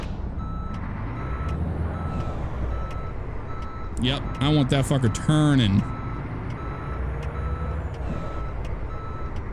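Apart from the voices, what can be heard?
truck reversing beeps while backing up trailer, American Truck Simulator video game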